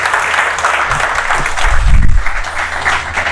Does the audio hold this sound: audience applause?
yes